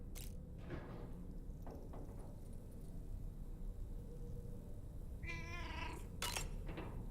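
A cat in the video game Death Stranding 2 lets out strained, drawn-out meows and a caterwauling yowl near the end, set against a dense, noisy game backdrop with a few soft thumps.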